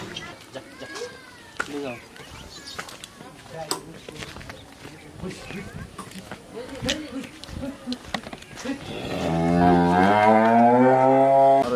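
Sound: Jersey dairy cattle at a farm

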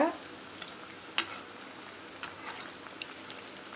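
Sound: keerai vada frying in oil

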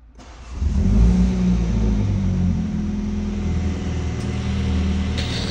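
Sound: car engine starting and exhaust revving in a garage

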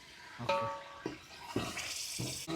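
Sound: water being poured into pot

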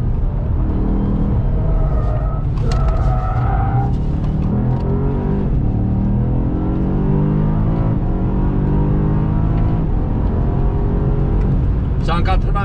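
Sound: BMW M5 CS engine accelerating on track

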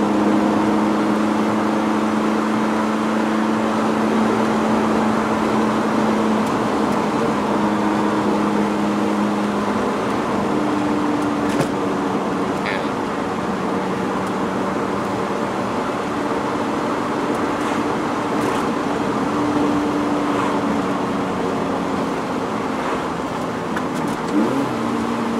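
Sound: 2020 Lotus Elise Sport 220 driving on rough road

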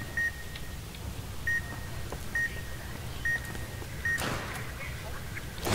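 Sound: beeping alarm in video game Fallout New Vegas

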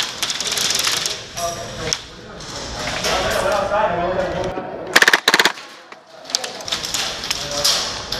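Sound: heavy gunfire in an indoor combat arena

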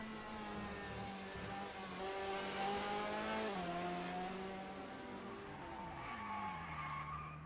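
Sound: race car hard braking and wheel lock-up at Le Mans, from a racing video game

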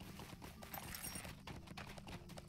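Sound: horse hooves clip-clopping in Lord of the Rings Online video game

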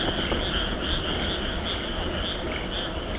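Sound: frogs croaking at night

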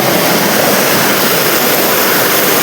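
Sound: waterfall water flowing down

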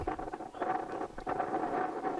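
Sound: strong wind on microphone

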